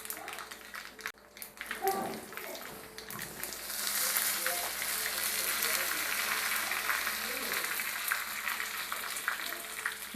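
Tempering for Tulu-style lemon rasam: oil sizzling steadily in a pan after a few taps and clinks, a broad hiss that builds and holds, with brief voices early on.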